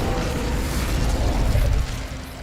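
The Incendio fire spell is cast in the video game Hogwarts Legacy: a loud, roaring fiery burst that holds strong for about two seconds, then starts to taper off.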